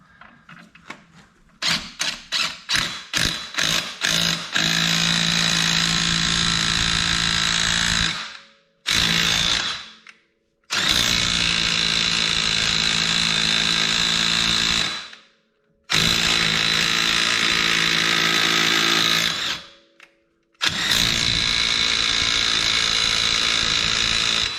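Impact wrench hammering at the nut holding the clutch on a Polaris RZR, starting with a run of short rattling bursts, then four long loud sustained runs separated by brief pauses, up close with no talk.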